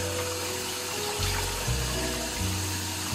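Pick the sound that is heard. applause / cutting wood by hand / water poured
water poured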